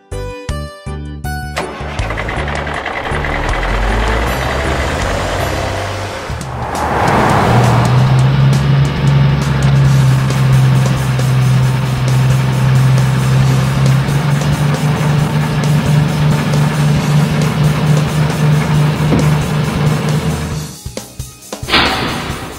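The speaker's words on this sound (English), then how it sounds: "Garbage truck." A garbage truck engine turns over and settles into a steady, loud low idle rumble that holds for several seconds, with a slam and clunks at the start and end.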